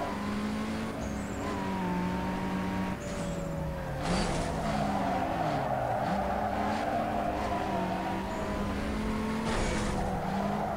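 Race cars roar through a street race in the video game Need For Speed Underground 2, a loud, continuous, rising and falling engine drone with sharp tire screeches near the start and again later.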